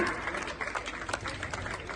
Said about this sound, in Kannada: ಜೋರಾದ ಚಪ್ಪಾಳೆ ಮಕ್ಕಳು